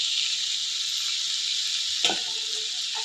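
Chicken fries in a pan as masala powder is stirred in, giving a loud, even, bright sizzle with a single spoon clack near the end and no voices.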